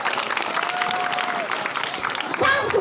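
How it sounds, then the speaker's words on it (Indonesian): Audience clapping at a Balinese Calonarang dance performance at Pura Masceti, Madahan, Gianyar, steady dense claps with crowd noise and voices mixed in, swelling louder near the end. "Tepuk tangan dikit, tepuk tangan demun nih"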